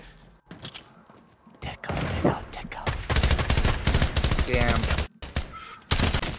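Rapid automatic gunfire from a charged weapon in the Fortnite video game, sustained loud bursts over several seconds with short breaks, while voices talk over the shooting.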